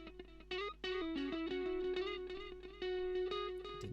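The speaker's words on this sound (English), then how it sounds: "You can hear my terrible guitar playing there." An electric guitar plays through effects, including tape echo, in a Logic Pro X session for a cover. A sustained, slightly distorted bass note holds steady beneath brighter picked notes and short melodic runs, clearly and without talking.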